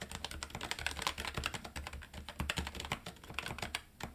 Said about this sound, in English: When it comes to the sound of the keys, yeah, it's pretty quiet.